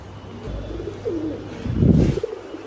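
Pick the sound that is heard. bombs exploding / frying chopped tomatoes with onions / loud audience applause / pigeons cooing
pigeons cooing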